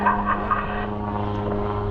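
A red propeller airplane flies at an airshow, its engine a steady droning hum with a low tonal buzz, fairly close and continuous, with no voices over it.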